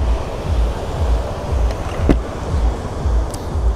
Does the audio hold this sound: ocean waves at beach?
yes